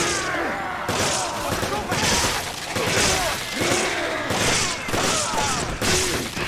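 Shotgun blasts and other gunfire boom repeatedly in the co-op video game Resident Evil 5, dense and continuous, layered over in-game noise and voices.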